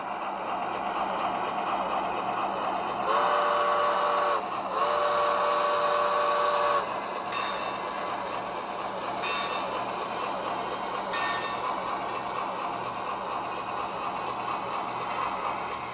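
A Bachmann Spectrum 80-ton HO scale Shay model locomotive plays its sound through Soundtraxx Mini Cube speakers, giving a steady mechanical chuffing and whirring with a sustained whistle-like tone in the middle, moderately quiet with no talk.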